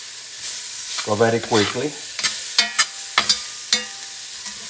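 Beef shanks sauteing in extra virgin oil over medium high heat, a steady sizzle under a short spoken line, with several sharp stirring and turning clatters toward the end.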